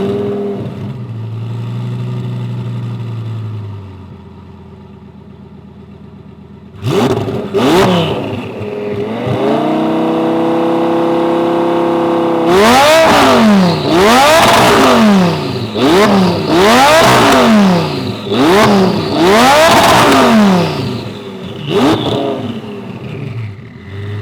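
A loud straight-piped twin-turbo Lamborghini engine idles, then revs hard in a string of sharp, rising and falling blips, close and aggressive, with no talking.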